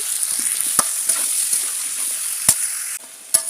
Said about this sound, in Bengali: আমি ওই তেলে এখন গোশ ভেজে নেব।